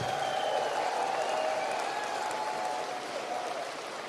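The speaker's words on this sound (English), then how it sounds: "Give them a big round of applause." Sustained applause from a crowd at a Canadian election campaign event, steady clapping that fades slightly toward the end, with faint background voices.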